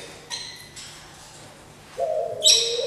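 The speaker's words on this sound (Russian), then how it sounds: "Эта тропическая птица очень любит внимание людей." A tropical bird at an exotic bird exhibition gives a few short, bright chirps, then a louder rising whistle-like call near the end, close and clear over quiet room ambience.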